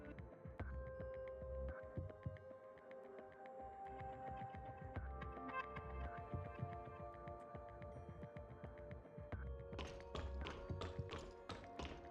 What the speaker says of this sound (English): It sounds like someone's banging on the door.